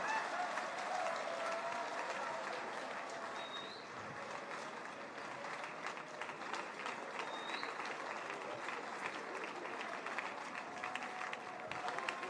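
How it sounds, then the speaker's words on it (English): Audience applause at a Nigerian Democracy Day television program, a steady, moderately distant wash of many hands clapping continuously throughout with no pauses. "A round of applause, please."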